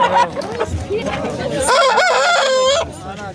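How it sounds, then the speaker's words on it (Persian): A fighting rooster at a market crows loudly up close, a rising strained call, among scattered clucks and light background voices. "اینم مرغ جنگی بده است"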